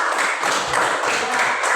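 Students in a classroom clap for a classmate in a short, fairly loud patter of applause. Uneven claps swell and dip in quick waves.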